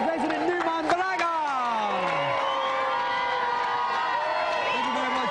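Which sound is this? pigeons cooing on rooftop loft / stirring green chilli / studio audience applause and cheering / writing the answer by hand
studio audience applause and cheering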